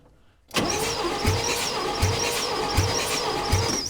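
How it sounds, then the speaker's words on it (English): A 1965 Chevy engine with an odd sound coming through the intake, as if an intake valve is not closing, catches and runs after a brief quiet start, holding a steady mid-pitched rumble punctuated by a regular low thump about every three-quarters of a second. "It's got an odd sound coming through the intake, like there's an intake valve not closing."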